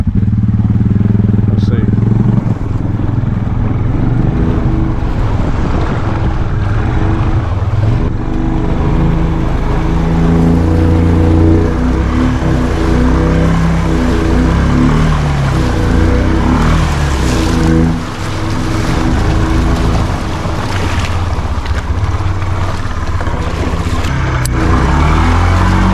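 A Honda 300 ATV rides through water at a new riding park, its engine droning loud and steady throughout with splashing and clatter mixed in, while people talk over it.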